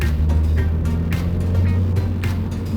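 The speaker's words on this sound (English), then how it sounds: "A lot of traffic today going this way." Road traffic with cars passing on a busy road, heard from inside or beside a 2023 Toyota 86 Anniversary Edition, as a steady low rumble with a few brief whooshes.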